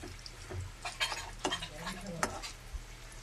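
Water lily flower fritters with chopped onion and chilli frying in hot oil, turned over with a spatula, giving soft sizzling with a few light scrapes and taps against the pan.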